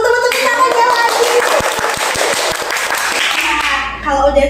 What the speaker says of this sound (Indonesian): Boleh dong teman-teman tepuk tangannya lagi.